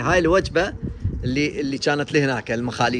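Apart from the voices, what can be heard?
No everyday noises stand out.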